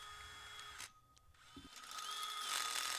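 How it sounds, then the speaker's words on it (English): A power drill whirs overhead while drilling holes for two eye bolts in a horse training setup, a steady high buzzing that dips briefly, then rises again and swells louder toward the end. "We're drilling holes for 2 eye bolts."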